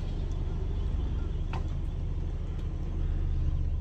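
A car reverses during a driving lesson, its engine making a steady low rumble that stays close and constant throughout.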